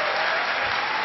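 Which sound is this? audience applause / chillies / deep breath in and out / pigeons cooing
audience applause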